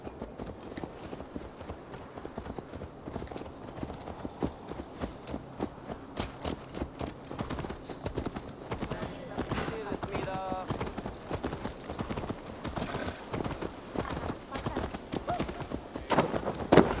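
Horse hooves clip-clop in Assassin's Creed Valhalla, a steady walking gait running through the whole stretch beneath game music and voices talking.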